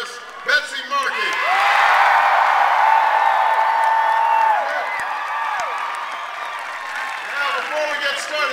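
A large rally crowd at Colorado State University in 2008 breaks into loud, sustained applause, cheering and whistling, swelling to a peak and then gradually thinning out.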